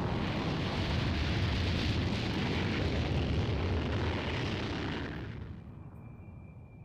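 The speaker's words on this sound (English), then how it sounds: "Look at the explosion." Massive explosion in the video game Dragon Ball Z Kakarot, a loud sustained roaring blast that rumbles for several seconds before fading out, with no voices.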